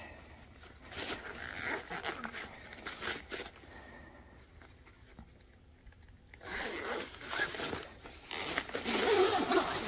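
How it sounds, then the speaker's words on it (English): A zipper is drawn open on a pocket of a Lixada rod and reel bag holding fishing rods, worked one-handed: close rasping pulls in two bursts with a quieter pause between. "It seemed to zip pretty good."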